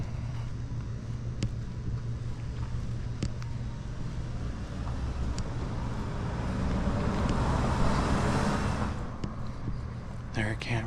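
Steady street traffic rumbling past at a distance, a low continuous wash of road noise that swells as a vehicle draws nearer toward the end, with faint voices mixed in.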